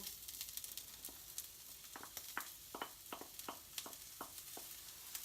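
Onion and beef mince frying together in a pan over reduced heat give a faint, steady sizzle, broken by a run of sharp scraping taps from stirring in the second half.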